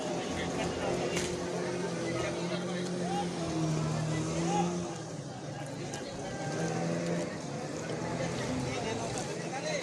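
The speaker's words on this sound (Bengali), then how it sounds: "এই যে স্পিড বোট দিয়ে অনেক লোক এখানে ঘুরতে যাচ্ছে।" Speedboats carrying visitors at Dream Holiday Park in Narsingdi drone across the water, a steady motor hum with shifting pitch as boats pass at a moderate distance, with people talking over it.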